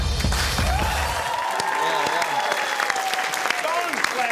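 Studio audience clapping in a steady, dense burst that fills the space, with a voice talking over the applause throughout.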